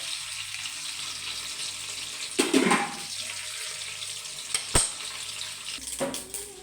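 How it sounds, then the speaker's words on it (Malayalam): Hot oil sizzling steadily with sharp crackles and pops as mustard seeds and dried red chillies fry, seeds bursting, a few louder bursts standing out near the end. "കടുക് പൊട്ടി തുടങ്ങുന്നുണ്ട്"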